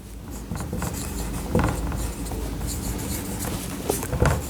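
Marker or chalk writing out a mathematical function on a board in a classroom lecture, a steady close scratching and rubbing with brief taps between strokes, alone without speech.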